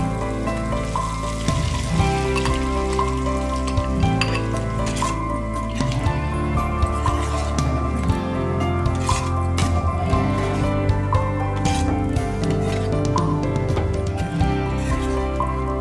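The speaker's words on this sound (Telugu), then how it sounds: "ఈ చికెన్ ఈ గ్రేవీ అంతా ఇందులో కలిపేద్దామండి ఆయిల్." Chicken and gravy being mixed into oil for Andhra chicken pickle: continuous close wet squelching and sloshing, loud and steady throughout.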